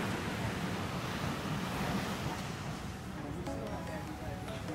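Surf washing onto a beach where sheepshead fish will be cooked, a steady broadband roar of waves with wind buffeting the microphone, continuous and fairly loud throughout.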